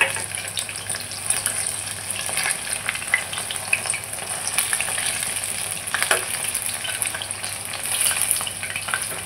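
Chicken pieces fry in a pan with a continuous close sizzle, broken by occasional stirring scrapes and sharper spatters, steady and moderately loud with no talk.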